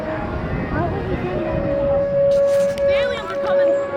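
A steady tornado siren wails at an amusement park during a storm, its tone rising and holding beneath nearby talk and ambient noise.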